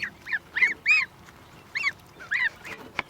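Goslings 27 days old, eating grass from a bucket, give a run of about seven short, nasal honks and squeaks at close range in an uneven rhythm, with no talk over them.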